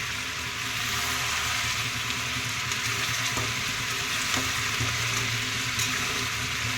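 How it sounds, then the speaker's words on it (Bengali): Potatoes fry in a pan with a steady, moderately faint sizzle and crackle that runs throughout, with a few soft clinks near the end and no voices. "আলু ভাজা হচ্ছে।"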